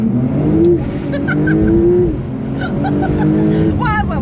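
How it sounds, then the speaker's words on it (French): A 750-horsepower Porsche's engine revs hard and holds high while its tyres are warmed, a loud close roar that rises and dips repeatedly, with people talking over it inside the car. "je suis en train de chauffer les pneus"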